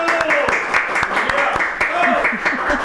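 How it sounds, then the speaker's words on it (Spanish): Studio audience applause welcoming Gabriela Ramos onto a television interview set, sharp individual claps ringing out over music and background tones, moderately loud and continuous. "vamos a recibir con un fortísimo aplauso a Gabriela Ramos"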